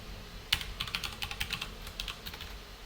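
Quiet typing on a computer keyboard, a quick run of a dozen or so light key clicks in an uneven rhythm, soft and close with no voices.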